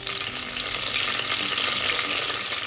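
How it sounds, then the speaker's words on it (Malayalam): Fenugreek seeds with green chillies and curry leaves crackle and sizzle in hot oil in a pan, a loud, steady frying hiss with no one speaking. "ഉലുവ ഒന്ന് മൂക്കുമ്പോൾ അതിലേക്ക് 3 പച്ചമുളകും കുറച്ച് കറിവേപ്പിലയും ചേർക്കാം."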